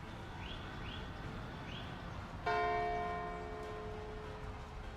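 Church bell tolling in the city builder game Kaiserpunk, a single resonant strike that rings out and decays slowly, after a few faint bird chirps over quiet ambience.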